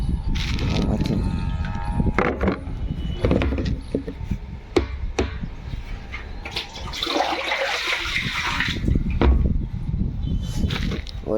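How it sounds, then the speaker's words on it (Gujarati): Water being filled into a container for pigeons, splashing and running with a few wooden knocks and clicks, close by and fairly loud with a brief faint voice. "આપણે પાણી ભરી લઈએ"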